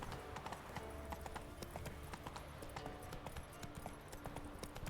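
Horse hooves clip-clopping at a steady gallop in The Witcher 3 on Skellige, a continuous rhythmic run of hoofbeats with game ambience and faint music behind it.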